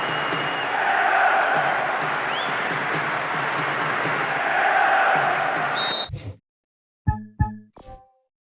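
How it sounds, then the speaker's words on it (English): Stadium crowd noise from a PES6 football match at Euro 2004, Portugal versus Italy: a steady, swelling roar of supporters for about six seconds, then cutting off into near silence broken by a few short thumps. "Crowd are creating a tremendous atmosphere"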